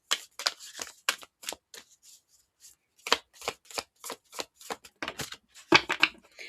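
Tarot cards being shuffled by hand, a string of crisp riffling bursts in an uneven rhythm with a short pause partway through, close and clear.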